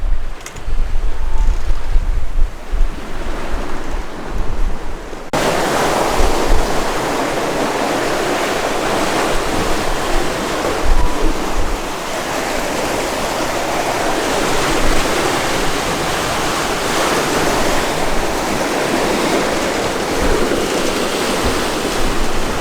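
A catamaran sailing fast at 8 to 9 knots through ocean waves, with loud rushing water and wind noise sweeping over the hull continuously, close and roaring without talk.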